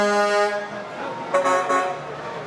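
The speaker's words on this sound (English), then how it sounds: "I think I need one of those horns on my truck, Missy" At a Christmas parade, big truck air horns blast a loud, sustained, rich-toned honk that shifts pitch partway through, close by. The horn runs with parade noise around it for a couple of seconds.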